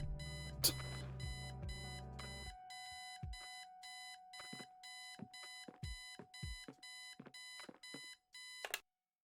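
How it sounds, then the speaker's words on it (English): An alarm clock rings in the adventure game Kathy Rain, a steady train of rapid, evenly spaced electronic beeps repeating for several seconds at modest volume, with a brief louder burst at the start. "I set the alarm so you won't miss the funeral"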